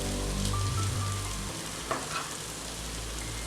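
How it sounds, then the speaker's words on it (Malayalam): Onions and tomatoes sautéing in a pan for a chicken curry give a steady, close frying sizzle that runs evenly throughout, with a few faint stirring touches and no talk. "ഉള്ളിയും തക്കാളിയൊക്കെ നല്ലതായിട്ട് വഴണ്ട് വന്നു."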